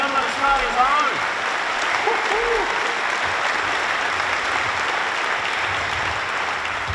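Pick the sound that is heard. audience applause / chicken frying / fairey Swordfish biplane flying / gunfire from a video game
audience applause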